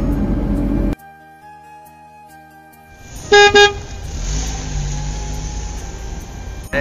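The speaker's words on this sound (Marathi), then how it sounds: "साहेबाची गाडी बघू शकताय आपल्याला ओव्हरटेक करून गेली" A car overtaking on a highway between Bangalore and Pune sounds two short, loud horn blasts close by, followed by steady road and engine noise.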